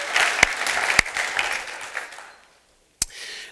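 A church congregation applauds its worship team in a dense burst of clapping that fades out after about two seconds. A brief pause follows, then a sharp knock and a faint restart of clapping.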